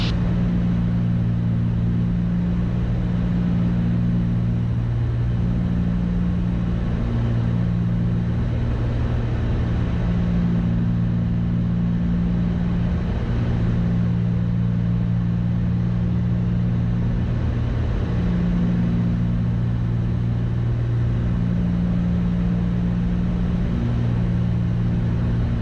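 A Cessna 310 twin-engine airplane takes off with a loud, steady droning engine tone that holds without a break throughout.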